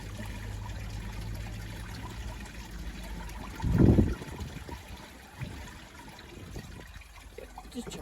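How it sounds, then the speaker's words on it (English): A 1981 Eljer Emblem toilet tank refills with water after a flush: a low, steady trickle and hiss with one brief, louder gush midway, heard close up in a quiet room. "gotta wait for the tank to fill up"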